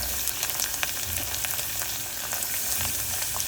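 Onion, green chilli and carrot fry in a pan with a bright, steady sizzle and scattered crackles, close and unbroken, with soft stirring in the background.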